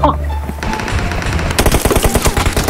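Rapid bursts of automatic gunfire in the battle game PUBG Mobile, dense and loud with a sharp rhythmic rattle in the second half, with a player's voice shouting over the early part.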